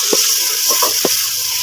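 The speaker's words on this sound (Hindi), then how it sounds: "बहुत जल्दी अच्छे से फ्राई करेंगे।" Beef sizzles and fries in a pan for pulao, with a steady close hiss and a few soft stirring knocks.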